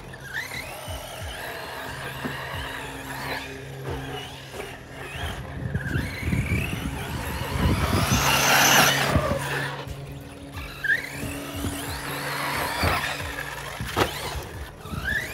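A Big Block Kronos 6S RC car cornering hard around a track, its electric motor whining loudly and steadily with tire scrubbing, rising to a peak midway before easing off.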